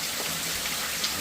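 Rain falls steadily in a soft, even hiss of drops, moderately quiet and continuous without any voices.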